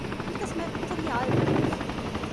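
Military helicopter from the video game ArmA 3 coming in to land, its rotor chop a steady loud drone throughout, with voices talking over it.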